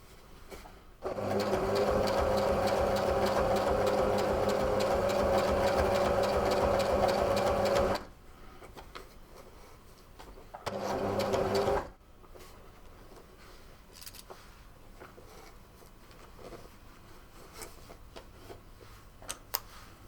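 A sewing machine hems a pair of pants, running in a steady, close mechanical whir for about seven seconds, pausing, then sewing one short second burst before quiet handling noises.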